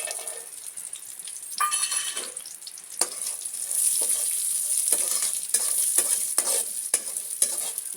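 Cashews and raisins frying in ghee in a pan for ravva laddus, a soft sizzle under repeated scraping and clinking of a spoon as they are stirred, close by.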